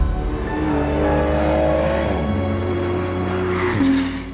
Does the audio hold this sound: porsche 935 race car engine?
yes